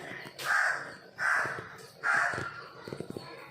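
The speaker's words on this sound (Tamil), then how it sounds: "வா காக்கா, வந்து எடுத்துகிட்டு போ." A crow caws three times in an outdoor morning setting, each harsh call evenly spaced and fairly close, with faint background noise between the calls.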